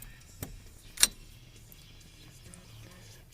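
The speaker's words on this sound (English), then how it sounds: "need to put the key back in there" An ignition key clinks and jangles at the ignition switch of a 1980s Ford pickup with tilt steering: two short metallic taps, the second sharper, over a faint background hum.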